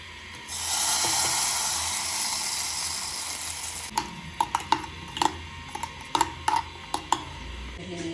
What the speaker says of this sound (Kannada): ಸೊ ಇವಾಗ ಚಟ್ನಿಗೆ ಸಾಸಿವೆ ಕರ್ಬೇವಿನ ಸೊಪ್ಪು ಒಂಚೂರು ಕಡಲೆಬೇಳೆ ಹಾಕ್ಬಿಟ್ಟು ಒಗ್ಗರಣೆ ಕೊಡ್ತಾ ಕೊಡ್ತಾಯಿದ್ದೀನಿ